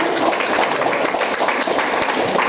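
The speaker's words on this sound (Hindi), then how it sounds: "जोरदार तालियां बजा दी जाए इनके लिए एक बार" Audience applause for a participant in a Hindi-speaking RCM business seminar: steady, dense clapping that fills the whole stretch without breaks, loud and close.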